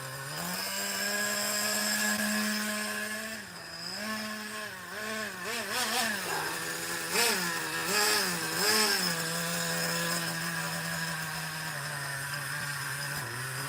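A nitro model engine running on 20% nitro fuel, a loud, buzzing, chainsaw-like drone close by, with several quick revs rising and falling in the middle before settling back to a steady idle.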